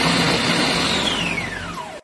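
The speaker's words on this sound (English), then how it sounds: "I'm going to blend 6 tomatoes" A kitchen blender pureeing six tomatoes runs with a steady, loud motor whir, then its pitch slides downward as the blades spin down at the end.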